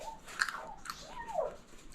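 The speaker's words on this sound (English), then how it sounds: "I bet these will still have a little crunch to them." Crunchy cooked broccoli stems are bitten and chewed close up, with a few crisp bites and moist chewing over about two seconds, with no talk.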